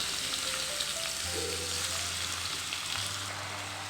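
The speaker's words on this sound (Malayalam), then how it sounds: "എണ്ണ ഒന്ന് ചൂടായി വരുന്ന സമയത്ത് നമ്മൾ കട്ട് ചെയ്ത് വെച്ചിരിക്കുന്ന സവാള ഉണ്ടല്ലോ അത് ഇതിനകത്തേക്ക് ഇട്ട് കൊടുക്കുക" Chopped onions for a Kerala egg roast hiss and sizzle steadily in hot oil, a dense continuous fry close by, with a low steady hum from the stove running beneath it.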